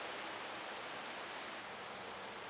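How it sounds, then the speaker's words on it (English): Water flows steadily in a creek passing beneath a stone canal aqueduct on the Roanoke Canal, making a constant, even broadband rush with no voices. "Water is flowing this way, flowing right down the middle here."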